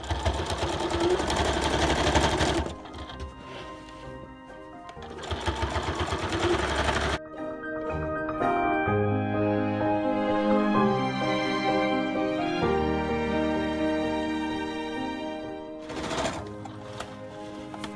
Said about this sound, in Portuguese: Agora eu vou passar a costura. Tudo em redor.